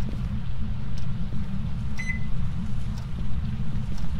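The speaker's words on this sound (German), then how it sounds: "Man kann die Mikrowelle anmachen?" A microwave switched on in the ghost-hunting game Phasmophobia gives a steady low hum, with one brief beep partway through.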